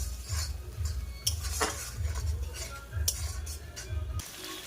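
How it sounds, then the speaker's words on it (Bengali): Prawns are stirred with ginger-garlic paste in a pan, a metal spoon scraping and clinking in repeated strokes over a low cooking hiss, close and fairly quiet. "আদা রসুন বাটা দিয়ে একটু কষে নেব।"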